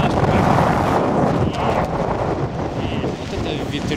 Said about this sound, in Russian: Вот это ветрюга, а?